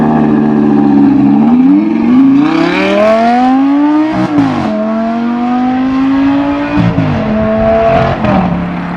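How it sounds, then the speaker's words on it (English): An Audi R8 V10 pulls away loud and close, its engine note climbing in pitch, dropping sharply at an odd-sounding gear change, then rising again and easing off, with wind noise underneath. "It's a strange gear change noise"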